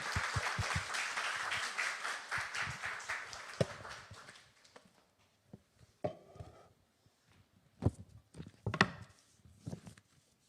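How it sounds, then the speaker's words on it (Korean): An audience at a Korean church's special Friday evening service claps to welcome a pastor. The applause is loud and dense at first, then thins out over several seconds into scattered claps and faint shuffling. "환영하며 격려하는 박수로 목사님을 맞이하겠습니다"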